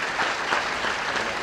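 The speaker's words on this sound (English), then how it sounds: "So that's Tyler. Give him a round of applause," An audience applauds a performer named Tyler at a keynote event, a brief steady wash of many hands clapping close and even.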